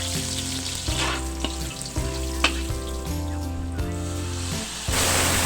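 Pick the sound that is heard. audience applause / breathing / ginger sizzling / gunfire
ginger sizzling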